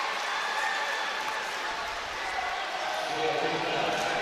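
A high-school basketball crowd in the Bulldog cheering section roars loudly and steadily after a basket, a dense continuous wall of cheers and yelling filling the gym.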